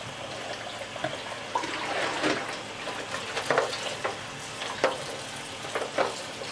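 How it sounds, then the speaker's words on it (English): Water running and splashing as dyed cotton yarn is rinsed by hand, with soft trickles, sloshes and intermittent wet squelches close by. "Keep washing this until the water becomes clear"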